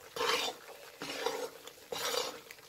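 Besan (gram flour) roasting in a pan gives three scraping stirring strokes, each a dry rasping swish, close and fairly quiet with no voice.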